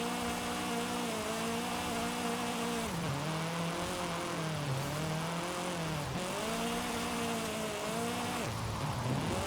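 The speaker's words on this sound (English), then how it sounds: "I'm trying to throw this car as hard as humanly possible to get as much angle as" A car is thrown into a high-angle drift, its engine droning loud and steady with the revs rising and dipping as the throttle is worked.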